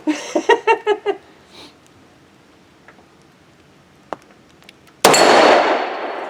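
Glock 20 pistol shots hitting steel targets on a range: a quick run of ringing metallic clangs, a few faint scattered ticks, then a loud, sharp blast with a long noisy tail.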